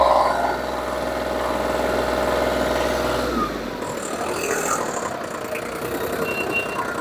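A Shibaura D23F Japanese mini tractor's diesel engine, with 512 hours of use, runs steadily at idle, then the note changes about halfway through as the revs shift, heard close and fairly loud with no talk.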